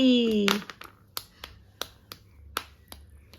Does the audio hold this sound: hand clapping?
yes